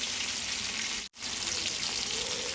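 Cumin and mustard seeds frying in hot oil in a home kitchen give a steady close sizzle and crackle, broken by a brief silent gap near the middle.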